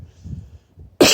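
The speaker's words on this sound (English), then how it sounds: "I'm only coughing because of the smoke from the fire." A person coughs sharply once, close and loud, while cooking breakfast over an outdoor campfire with wood smoke in the air. Only quiet rustling and movement come before the cough.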